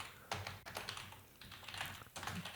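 Someone typing on a computer keyboard, a close, quiet run of uneven clicky keystrokes with brief pauses between short bursts.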